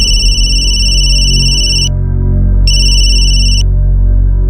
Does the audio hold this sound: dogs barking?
no